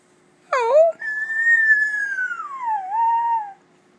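A single dog howls in a long, rising then slowly falling wail lasting a few seconds, close and clear, with a short yelp-like start.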